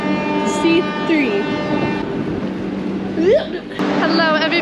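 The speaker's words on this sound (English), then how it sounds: "This is our train" Train at an Indian railway station on the Delhi to Agra route, a steady rumbling hum with tonal horn or whistle-like notes rising through it, heard close, with voices talking in the background.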